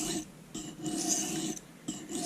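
A paring knife scraped across a sharpening stone in short repeated strokes, a dry rasping swipe roughly every half second with brief pauses between, close and quiet.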